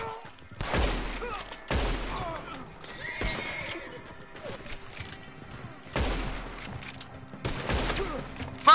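Gunfire in Red Dead Redemption 2 crackles in sharp broadband bursts amid horse whinnies and hoofbeats, several loud shots spaced through the scene while voices talk over it.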